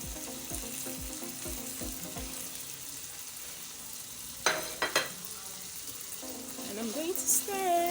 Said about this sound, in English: I'll give it a beautiful stir